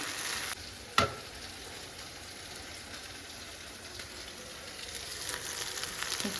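Steady, close sizzling of tomatoes frying in a pan, with one sharp clink near the start and no talking.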